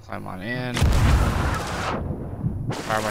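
Ship cannon in the Sea of Thieves game fires a player toward an island: one loud, heavy boom followed by a rushing, roaring whoosh that fades, with a voice briefly before and after.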